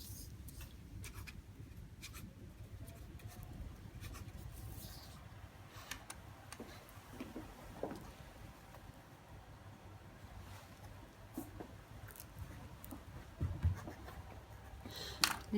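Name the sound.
pen writing while signing documents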